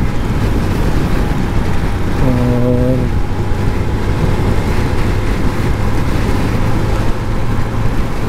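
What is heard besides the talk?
Honda CB 150F motorcycle riding on highway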